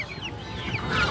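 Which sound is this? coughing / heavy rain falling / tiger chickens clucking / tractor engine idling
tiger chickens clucking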